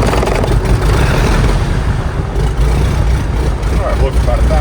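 A Cirrus SR20 piston engine idles near 1,000 RPM just after start, a loud steady low rumble close by, with a voice talking over it.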